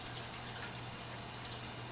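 Warm water runs from a tap to rinse an SCBA mask, a steady continuous hiss of flowing water, close and even in level with no talk.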